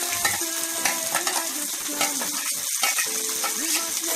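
Onions and okra fry in a pan for a Rayalaseema-style okra chilli dish, with a ground masala mixture added. A close sizzle comes with clinks and scraping from stirring, and a voice speaks briefly over it.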